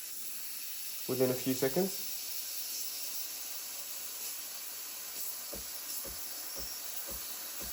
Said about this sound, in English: Turn on the steamer, wait 10 or 15 seconds when you see the pressure increase on the steam side.